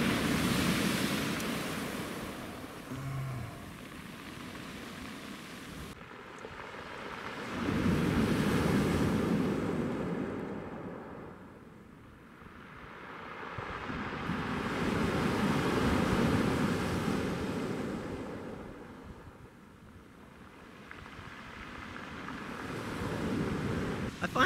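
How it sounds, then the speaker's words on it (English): Sea waves break and wash onto a stony beach in slow surges, each swell rising to a loud roar then receding over a few seconds, with steady wind buffeting the microphone throughout and no voices. "That's a big wave."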